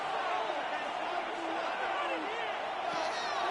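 Football stadium crowd on third down, a broad steady roar of cheering voices filling the whole stretch, with a commentator's voice blended in.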